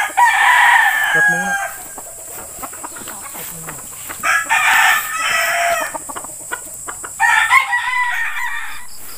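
A gamefowl broodcock rooster at a game farm in Tanay, Rizal crows loudly and close by in several strained bursts, mixed with clucking, while someone speaks briefly.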